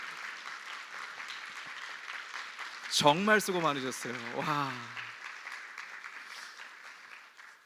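A church congregation applauds the praise team in a sustained, even clatter of clapping from many hands, with a voice speaking over it and an exclamation partway through.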